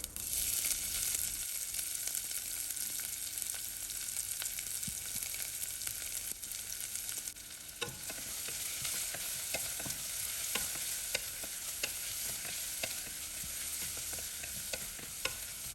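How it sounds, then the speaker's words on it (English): Onions sauté in hot oil with mustard seeds, cumin, cloves and a piece of cinnamon, giving a steady close sizzle broken by frequent spoon-stirring clicks and scrapes, with no talking. "add half teaspoon of mustard and cumin, 3 cloves, 1 small piece of cinnamon and saute with onions until it's soft and well cooked"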